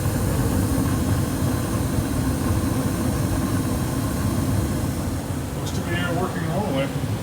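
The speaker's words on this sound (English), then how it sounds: "The main blower motor down below is working." A forced air furnace runs with its main blower motor pushing air and the burner lit, giving a steady, dense low roar that holds unchanged throughout, with a few faint chirps near the end.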